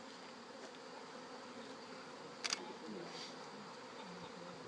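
Honey bees buzzing steadily at an opened hive in September, a faint, even drone heard throughout, with one brief click partway through.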